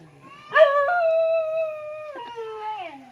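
A dog lets out a long, wavering howl, rising then sliding down in pitch, close by and alone, with a short whimpering tail at the end.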